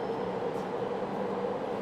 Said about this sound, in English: So the train's just left. There's a train down there now.